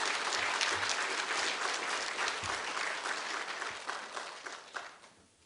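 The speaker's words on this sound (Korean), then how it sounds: "박수로 우리 다시 한번 장로님들 축하해 주시기 바랍니다." Congregation applause at a church retirement ceremony honoring elders, a full room of clapping that holds steady and then gradually thins and fades toward the end.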